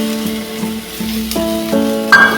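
Raw mango pieces dropped into oil with frying sweet potato for a tangy fish-roe dish, giving a steady close sizzle with brief stirring clatters and a sharper burst near the end, no voices.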